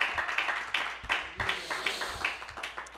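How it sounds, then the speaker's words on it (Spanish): A church congregation claps in a series of uneven, moderately faint bursts of hand claps, with a small amount of background murmur. "Si ese aplauso es para él, hay que hacerlo con más regocijo"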